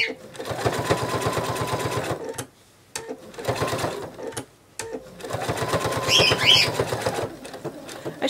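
A sewing machine runs in fast, even bursts while stitching with white thread around a penguin plush foot, stopping briefly twice between runs, close and clear.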